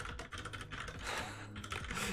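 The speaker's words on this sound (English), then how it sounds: "I was typing Control C and then Control D" Keyboard keys are pressed in quick succession at a computer, with clicks close and fairly faint over a steady background hum.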